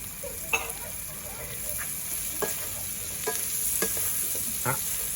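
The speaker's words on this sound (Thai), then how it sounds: "สุดท้ายต้นหอมที่เราซอยนะฮะ ใส่ลงไป" Pork belly with chili, salt and sliced green onions stir-fries in a hot pan with a steady sizzle under repeated scraping stir strokes, close and continuous, with a voice speaking over it.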